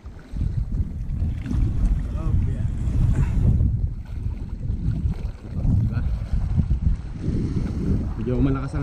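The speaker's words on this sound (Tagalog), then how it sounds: "Medyo malakas ang hangin." Strong wind buffeting the microphone outdoors near water during ultralight fishing, a constant heavy rumble with gusts rising and falling.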